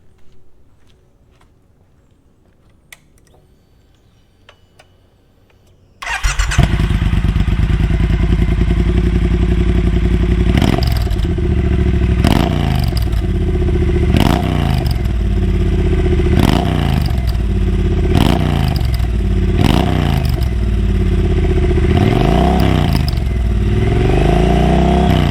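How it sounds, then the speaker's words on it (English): A Triumph Bonneville T120 motorcycle with a new free-flowing exhaust starts up after near silence, then idles loudly and close with a deep rumble, blipped through a series of sharp, rhythmic revs that rise and fall repeatedly. "let's listen to this new exhaust"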